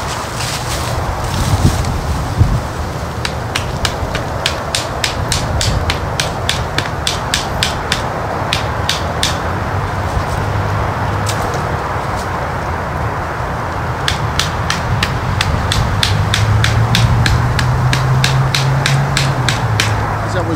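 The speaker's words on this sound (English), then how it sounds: "just a little demo of the hammering of the pommel." A sharpened wooden stick is driven into the ground with the pommel of a Ron Hood Hoodlum knife, giving a steady run of sharp knocking strikes in bursts, close and fairly loud over outdoor background noise.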